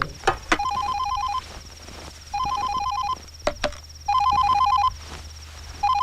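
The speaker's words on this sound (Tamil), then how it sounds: "தரா ஃபோன் எடு." A telephone rings in repeated electronic trills in a scene from the Tamil film Anjathe, each burst followed by a short pause, with a few sharp clicks and a low hum underneath.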